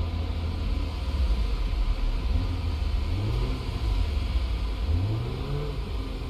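A car engine drives in the Big Ambitions video game, a loud steady drone that twice climbs sharply in pitch as it accelerates and revs, with no voices.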